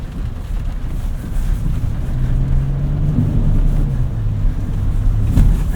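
A 2025 Nissan Armada Pro-4X crawls up a slippery muddy hill, its engine a steady low drone with a rising tonal note, heard close and alone against rushing wind buffeting the microphone.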